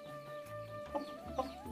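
A wild rooster of an uncommon breed clucking at a bird market, two or three short clucks at an unhurried pace, moderately close over a low steady hum and faint background noise.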